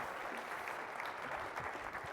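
An audience at a sports analytics conference applauds after a speaker is introduced, a dense, steady wash of clapping from many hands, loud and continuous for a couple of seconds.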